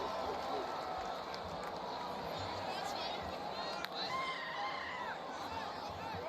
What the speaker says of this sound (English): if you hear the buzz coming out of the crowd right now in the stadium